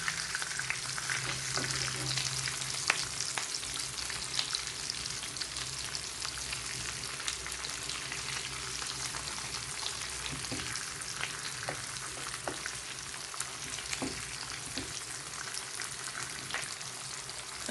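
Chicken shami kababs fry in a pan with a steady, soft, crackling sizzle and scattered pops at close range, continuous and alone, with no talking.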